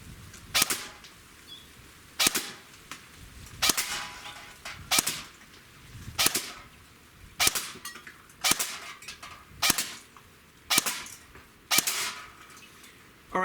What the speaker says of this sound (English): Smooth bore BB gun, shooting close to 400 feet per second